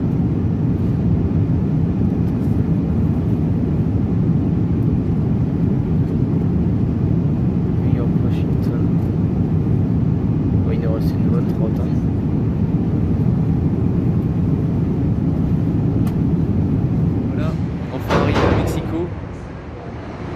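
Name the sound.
airplane flying over New York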